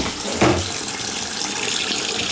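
Water runs from a faucet into a bathroom sink during a pop-up drain replacement, a steady close hiss and splash with a brief louder gush near the start.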